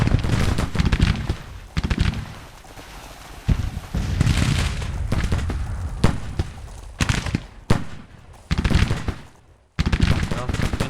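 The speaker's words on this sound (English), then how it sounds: "Shooting here again at the flank." Gunfire rattles along a flank in a Confederate-campaign war game, heavy volleys and machine-gun-like bursts arriving in irregular clusters with brief lulls, loud and near, with a few sharp isolated cracks between the rolling fire.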